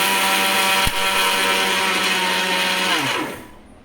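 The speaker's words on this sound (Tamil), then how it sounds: "3 ஏலக்காய் மிக்ஸியில் போட்டு நல்லா கிரைண்ட் பண்ணிக்கோங்க" A mixer grinder grinding sugar and cardamom whirs loudly at high speed, then winds down and stops near the end.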